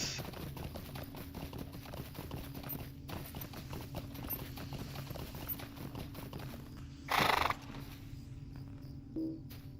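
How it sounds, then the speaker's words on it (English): Horse hooves clip-clop in a steady, fast rhythm as a mount is ridden in a video game, moderately close, with a short burst of another sound partway through. "I was still riding my horse, apparently."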